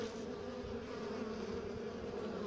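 Honeybees fanning at a hive entrance, a steady close buzzing drone that holds evenly throughout with no voices.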